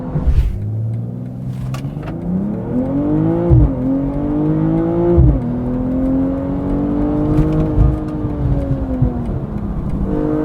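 A BMW M240i xDrive coupe's six-cylinder engine accelerates hard, its loud, smooth exhaust note rising through the revs, dipping briefly at gear changes, then climbing again, heard close and alone.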